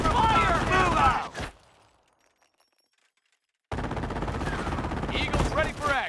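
Machine gun fire in the video game Company of Heroes, loud rapid bursts that rattle on, cut by a brief silence, then resume under shouted battlefield voice lines.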